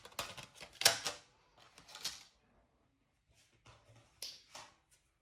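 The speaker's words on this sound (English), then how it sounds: "Run that through the die cut machine" A die cutting machine runs card dies through for a handmade card, producing a few short bursts of clicking, grinding mechanical noise up close, separated by quiet pauses.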